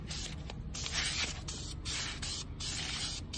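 Aerosol spray paint hissing steadily as a coat of red goes onto a C8 Corvette engine cover, a close continuous spray with brief pauses between passes.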